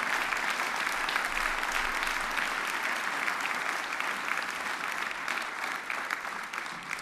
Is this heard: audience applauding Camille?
yes